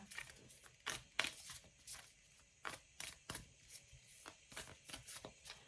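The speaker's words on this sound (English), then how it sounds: "I'm going to shuffle the cards a little bit more." Tarot cards being shuffled in quick riffling bursts, a steady run of crisp papery flutters close by with brief pauses between.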